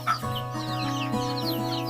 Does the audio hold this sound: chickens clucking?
yes